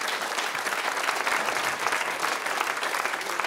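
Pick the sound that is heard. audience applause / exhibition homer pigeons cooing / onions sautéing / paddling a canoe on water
audience applause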